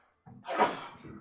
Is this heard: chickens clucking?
no